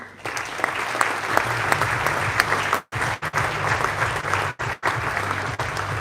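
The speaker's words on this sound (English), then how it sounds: "Big applause for him." Steady audience applause fills a presentation stage for the Red Bull KTM MotoGP factory team manager, with a few brief dips and breaks in the clapping.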